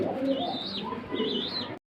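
Bombay pigeons coo softly and repeatedly, low throaty rolling calls close by, with a brief higher chirp-like tone riding over them.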